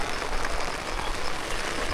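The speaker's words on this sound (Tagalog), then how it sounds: "Ang grabe ulan ah." Heavy rain pours down in a steady, dense hiss with no voices, fairly faint and unbroken throughout.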